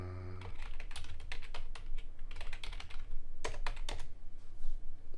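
Typing on a computer keyboard, quick irregular bursts of close clicking keystrokes with short pauses between runs.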